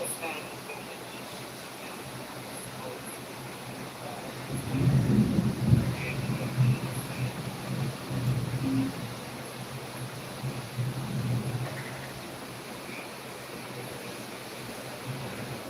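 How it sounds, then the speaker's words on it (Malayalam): Continuous heavy rain hiss with low rumbling bursts of thunder rolling in the middle, fading back to steady downpour. "നല്ല മഴ ഇവിടെ നല്ല ശക്തമായ മഴ"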